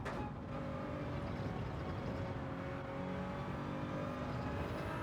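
A GR Supra Racing Concept in Gran Turismo 7 at Lago Maggiore gives a steady engine drone with a tonal whine that shifts as it eases into a braking zone, continuous and moderately loud without talk.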